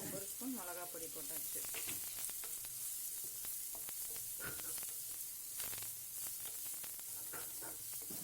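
Onions sauté in a frying pan with turmeric, cumin and chili powder for an okra fry, giving a steady, loud sizzle and hiss with scattered stirring scrapes throughout. A brief voice is heard faintly at the start.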